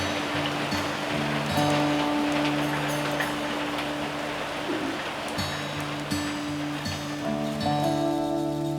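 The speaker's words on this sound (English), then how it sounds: "Here comes some rain." Light drizzling rain falls steadily outdoors in off-grid New Zealand bush, a continuous soft hiss with tonal background hum throughout.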